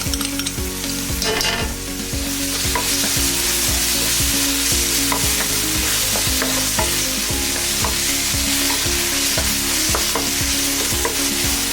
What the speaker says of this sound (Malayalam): നന്നായി ഇളക്കി കൊടുത്തുകൊണ്ടേയിരിക്കുക. ഇനി ഇതിലേക്കായി ചെറുതായി അരിഞ്ഞ പച്ചമുളക് ചേർത്ത് ഇളക്കുക.